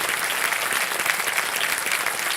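Steady, dense applause from a TV game show studio audience, loud and continuous throughout with no pauses and no speech over it.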